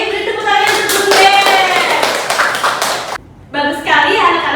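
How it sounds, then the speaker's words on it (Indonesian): Children clap their hands together in a classroom lesson, a dense run of quick claps lasting several seconds, briefly dropping out before a second burst resumes. "beri tepuk tangan untuk Bunda"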